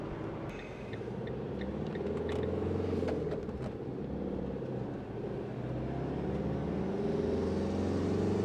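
A car cruises along the Autobahn toward Hamburg after the Wacken Open Air festival, heard from inside as a steady low road and engine rumble with soft tyre noise, no talking.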